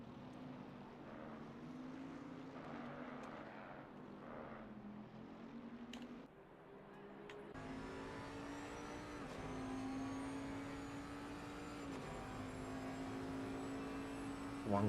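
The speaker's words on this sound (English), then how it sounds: "They do sound good, these Bentleys" Bentley race car engines in Assetto Corsa Competizione at Imola drone and rev continuously, with rising and falling pitch as cars pass and shift, a steady loud mechanical roar throughout.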